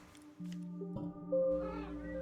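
A cat meows in the puzzle video game Her Trees: Puzzle Dream, a short tonal cry heard near and clear over a sustained musical backing.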